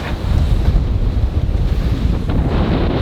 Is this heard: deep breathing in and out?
no